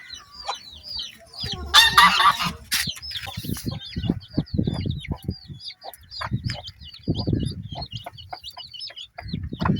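Chickens clucking and chattering close by, with a rooster crowing and a burst of wing flapping near the start, the calls continuing in uneven bursts throughout.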